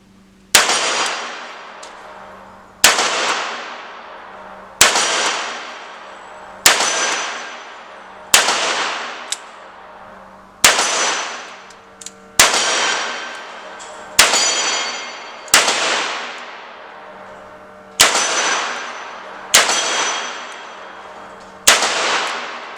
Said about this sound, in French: première série en simple action, j'ai loupé le 5ème gong et j'ai réussi à la rattraper avec la 6ème cartouche